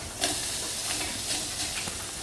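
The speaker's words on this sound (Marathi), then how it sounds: "इकडे आईने कांदा टाकला आहे" Steady, close sizzling hiss of onion frying in oil, continuous and even with small crackles, no voices.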